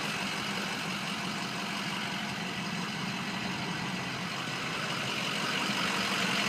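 A 6.0 truck engine with an exhaust tip idles with a steady, low drone, no voices, a constant rumbling hum that holds its level throughout.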